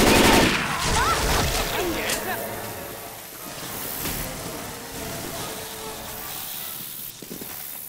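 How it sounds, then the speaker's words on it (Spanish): Rapid bursts of gunfire in the zombie shooter Left 4 Dead 2, loud and dense at the start and then settling into steady, busy firing, with voices talking over it throughout. "¡Dejad de dispararme!"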